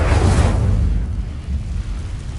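A fire spell cast in Hogwarts Legacy bursts out as a loud, deep whoosh with a rumbling low boom that fades over a couple of seconds, heard alone.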